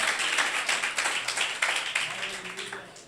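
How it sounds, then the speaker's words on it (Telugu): A church congregation at a Sunday service claps together in a steady, repeated rhythm. The sound is moderately distant, with a little voice beneath the clapping. "ఇంకాస్త బిగ్గరగా చప్పట్లు కొడదాం"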